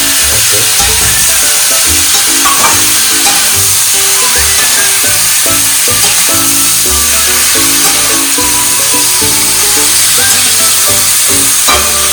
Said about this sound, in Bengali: এগুলো এখন ফ্রাই হচ্ছে।